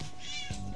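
A cat in a played-back clip lets out a short, strained meow with a wavering pitch, heard faintly through a dense, noisy playback background.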